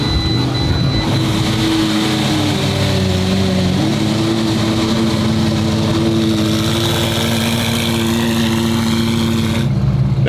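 A car engine nicknamed the Flame Queen runs steadily close by, its deep idle rumble holding a constant level throughout with no talking.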